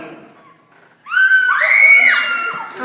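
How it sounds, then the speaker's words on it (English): A woman lets out one long, loud, high-pitched scream during a staged story-time skit with a villain, rising sharply after a brief murmur and holding for nearly two seconds. "She screams loud."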